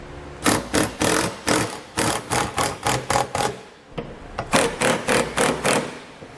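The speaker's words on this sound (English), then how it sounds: "Tighten everything up. I'm using a 3/4 inch socket." A 3/4 inch socket on a ratchet tightens Curt trailer hitch receiver bolts on a 2015 Volkswagen, giving loud, close, rapid bursts of clicking in a steady rhythm with a brief pause midway.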